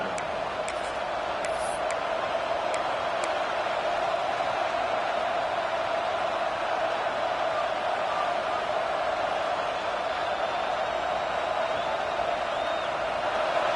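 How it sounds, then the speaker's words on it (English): Stadium crowd in a Madden football video game rising into a steady, dense roar of cheering that continues evenly throughout, with no talking over it. "this crowd coming to life here, trying to help the defense get a stop with the offense pinned back"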